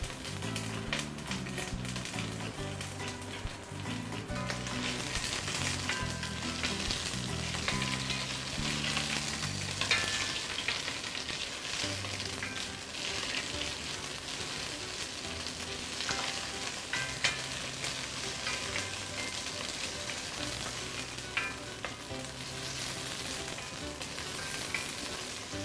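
Green onion, ginger slices and garlic frying in hot oil in a wok, a steady crackling sizzle with stirring clatter throughout, fairly soft, alone with no talk.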